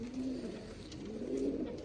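A pigeon of the Sialkot breed coos softly in a short, low, rolling call that rises and falls twice, close by and with no voices.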